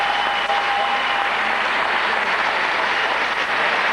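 An arena audience at the 2003 European Weightlifting Championships, +105 kg class, gives a loud, sustained round of applause, a dense, even roar of clapping that continues for the whole stretch without any commentary over it.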